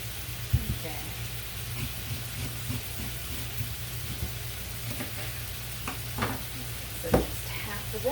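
Meat browns in a pan for stuffed bell peppers, making a low, continuous sizzle with a few soft stirring scrapes and occasional louder spits and pops.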